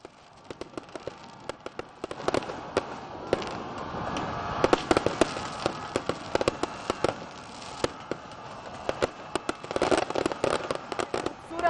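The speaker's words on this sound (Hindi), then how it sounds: "मीनार पाकिस्तान पे आतिशबाजी का मुजाहिरा किया गया है" Fireworks over Minar-e-Pakistan in Lahore during an Independence Day celebration, with dense rapid crackling and popping bursts that carry on steadily from start to end, heard from a distance amid a low crowd murmur.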